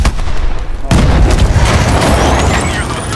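Explosions and gunfire from a Seattle street fight in Call of Duty: Advanced Warfare, with a heavy boom breaking in after a brief lull and dense, continuous blasts and shots rumbling close and loud.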